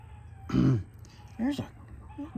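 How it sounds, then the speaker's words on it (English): Chickens in the countryside give a loud squawk and then several shorter clucks and calls, fairly close, over a low background hum. "Y'all pardon the chickens or whatnot."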